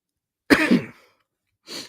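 A person coughs once harshly and briefly, then after a pause gives a softer throat clear, close up in an otherwise quiet room.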